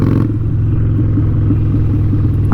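Harley-Davidson Iron 883 Sportster with an aftermarket exhaust idling, a loud, steady low rumble with a regular throbbing pulse, close by and without speech.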